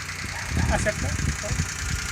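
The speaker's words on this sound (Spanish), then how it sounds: "Se nota que el motor está encendido" A car engine idles after being push-started in second gear on a flat battery, a low steady rumble with slight knocking pulses heard close up, while a voice talks briefly over it.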